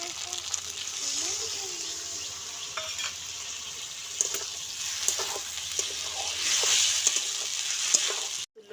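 Water poured onto ground spice paste in a hot pan, giving a steady loud sizzle with occasional utensil clinks and scraping throughout, ending abruptly.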